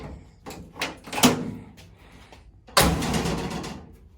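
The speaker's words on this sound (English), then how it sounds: "You gotta kind of slam the door." The door of a 1977 Chevy Camaro under restoration closes in several short knocks and latch clicks, then a firmer, louder shut lands near the end, close by and fairly clear.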